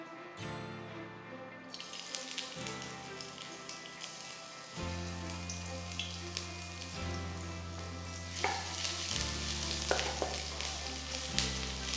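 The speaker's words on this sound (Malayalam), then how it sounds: "എണ്ണ നന്നായിട്ട് ചൂടായി. ഇതിലേക്ക് 1 teaspoon garlic finely chopped, ginger chopped ഒരു 1/2 ടീസ്പൂൺ." Finely chopped garlic and ginger hit hot oil for teriyaki chicken bao buns, setting off a bright, steady sizzle that crackles on with stirring over a backdrop of music.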